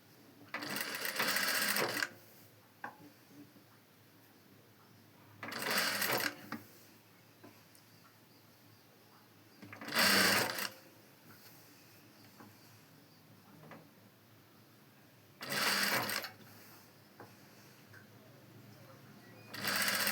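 A sewing machine stitches a long frock with lining in four loud bursts, each lasting about a second and spaced several seconds apart, with quiet handling between runs.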